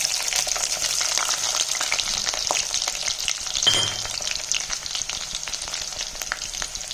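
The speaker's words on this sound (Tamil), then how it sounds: "எண்ணெய் காஞ்சோன்னா வெந்தயத்தை போட்டுடலாம். அடுத்து சின்ன வெங்காயத்தை போட்டுடலாம்." Fenugreek seeds and small shallots frying in hot oil, a loud, dense, steady crackling sizzle close up, with a brief stirring scrape midway and no voices.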